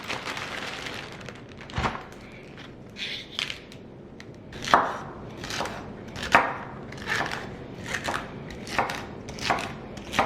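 A knife chopping celery and carrots on a cutting board, a run of sharp irregular thuds and taps, close and distinct with no voices.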